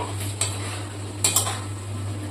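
Capsicum and green chillies being stirred into a chicken roll filling in a pan, with a low background hum, a faint sizzle and a few clinks and scrapes of a spoon against metal, quiet and close with no talk.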